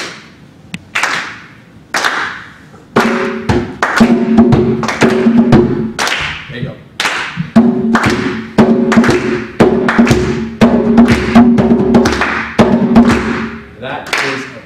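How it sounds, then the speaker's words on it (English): A group claps a steady breakdance rhythm together, loud, sharp and evenly repeated, with a few pauses between bursts and a voice speaking briefly over it. "I want everyone to clap for me."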